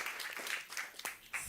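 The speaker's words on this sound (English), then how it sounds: "Another round of applause for Itaipu" A conference audience gives a short round of applause for Itaipu at a Brazil event ahead of COP30, with scattered, fairly faint claps that come in uneven bursts, not a full ovation.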